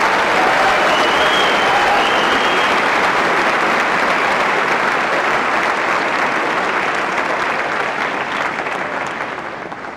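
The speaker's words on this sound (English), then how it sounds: "Please join me for a round of applause for the graduates of Fifth." Sustained applause from a large crowd at a graduation ceremony, loud and steady for the whole stretch, thinning slightly toward the end.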